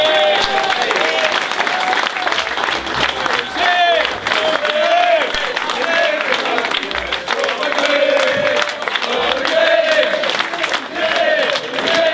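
Applause and cheering from an awards-evening crowd at Wealdstone FC fill the room steadily for about twelve seconds, with voices calling out and talking through the dense, continuous clapping.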